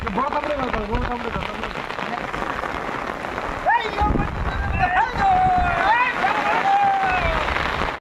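Strong wind and heavy rain from Cyclone Dana sweep a riverside with boats, a loud, dense roaring wash, with people's voices calling out over the storm partway through.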